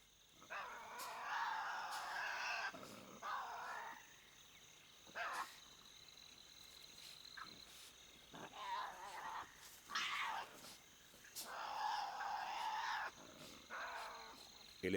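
Tasmanian devils growl and snarl in harsh, raspy bursts that come in repeated clusters across the stretch, loud and close against a quiet wild Tasmanian night.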